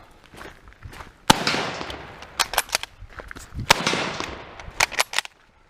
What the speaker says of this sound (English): I'm just going to drop the clips in place